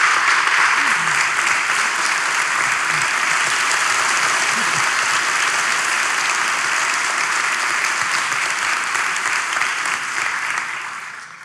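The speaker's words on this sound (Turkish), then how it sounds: "Alkışlarla." A Turkish comedy show's studio audience applauds loudly and steadily, a dense wash of clapping that holds for about ten seconds before starting to fade at the end.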